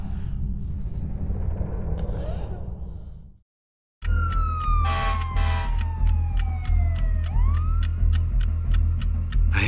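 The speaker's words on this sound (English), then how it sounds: "I hate sirens." Police sirens wail in a tense robbery scene, a long descending tone over rhythmic rumbling, loud and close after a brief silence, with earlier muffled voices and noise before the cut.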